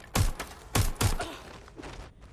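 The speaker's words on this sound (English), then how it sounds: "Now, I'm hearing gunfire." A few sharp bursts of gunfire ring out in the video game Watch Dogs Legion, Resistance Mode: three loud close shots in quick succession, then fainter pops trailing off.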